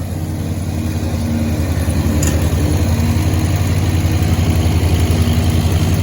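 A zero turn mower engine runs steadily and loud at close range, a constant idling drone with even vibration throughout and no voices over it.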